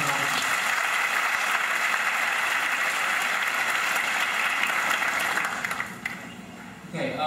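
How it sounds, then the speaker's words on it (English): A school audience at a senior awards night applauds students in a steady, sustained round of clapping that fades toward the end, with a brief pickup just before it stops. "just one last round of applause for these students"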